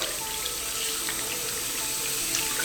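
Warm tap water runs steadily into a sink while hands are washed, a constant close hiss with faint splashes throughout.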